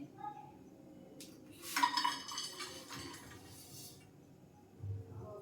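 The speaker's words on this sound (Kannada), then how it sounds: "ಈ ಪಾತ್ರೆಗೆ ಬೆಲ್ಲ ಹಾಕ್ತಾ ಇದ್ದೀನಿ." Solid lumps of jaggery clatter into a metal pot in a brief cluster of clunks and rattles, surrounded by quieter handling sounds.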